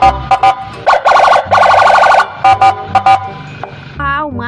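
A toy ambulance siren wails in repeated electronic bursts, loud and close, with pauses between them and other toy sounds and a brief voice near the end.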